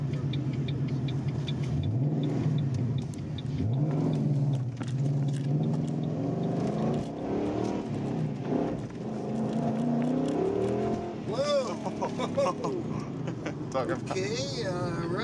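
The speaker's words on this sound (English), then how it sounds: "We're spinning tires, we're going slower." Old Ford Mustang with 4.10 gears accelerating hard and spinning its tires, a loud, steady engine roar rising and falling in pitch throughout, with people talking over it toward the end.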